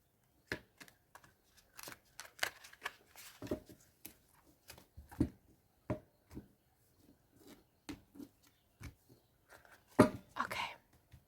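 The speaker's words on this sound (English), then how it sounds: "One last shuffle." Tarot cards being shuffled by hand, a run of crisp riffling and tapping bursts spread over about eleven seconds, close and fairly quiet, with brief soft sounds between them.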